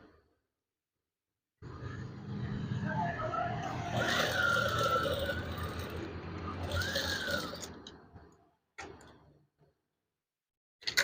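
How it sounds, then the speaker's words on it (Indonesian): A sewing machine stitching sheer fabric for swag curtains, running close and steady for about six seconds, then stopping, with a short burst and a few clicks afterward. "Kemudian jahit lagi."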